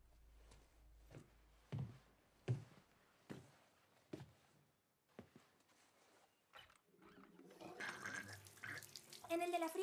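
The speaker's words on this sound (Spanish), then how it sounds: "En el de la fría sale agua." Water runs from the cold tap of an old house's sink, steady splashing that builds toward the end, heard among a series of sharp knocks and clatter.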